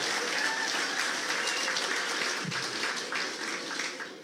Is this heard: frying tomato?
no